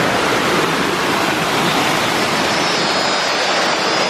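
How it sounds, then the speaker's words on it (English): A small jungle waterfall in Thailand rushes steadily and loudly up close, a dense, unbroken roar of falling water that holds an even level throughout with no voices. "The waterfall is obviously going to be a bit bigger and a bit more significant than this"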